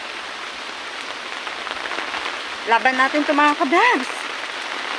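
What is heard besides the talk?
heavy rain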